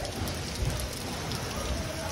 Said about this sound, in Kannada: ನಾನ್ ನೋಡ್ತಿರೋದು ಈ ವರ್ಷದ ಮೊದಲನೇ ಮಳೆ